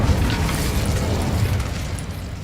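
An Incendio fire spell bursts in Hogwarts Legacy with a loud, close, rumbling whoosh that fades over a couple of seconds, with no voices.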